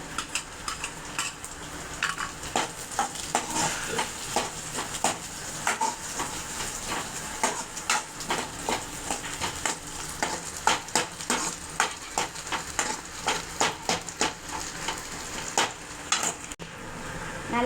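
Garlic frying in hot oil for Tamil sundakkai kuzhambu, a steady sizzle punctuated by frequent scraping clicks of a spoon stirring against the pan, close and continuous with no talking.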